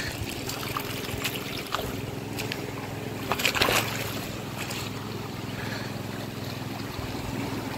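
Irrigation water running through a channel into a freshly transplanted paddy field in rural Konkan, a steady low trickling rush with faint outdoor wind and a brief louder splash midway.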